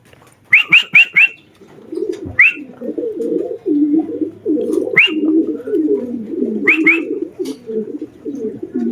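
Racing pigeons coo in a continuous low, throaty burble close by, while sharp whistled chirps and wing flaps break through in short bursts.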